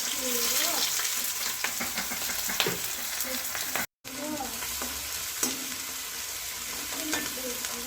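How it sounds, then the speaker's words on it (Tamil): Chopped onion and garlic sautéing in hot oil for an eggplant pepper fry make a steady, moderate sizzle, with scraping stirs of a spoon breaking through now and then and a brief drop-out midway. "கொஞ்சம் நேரம் லேசாக வதக்கணுன்னு"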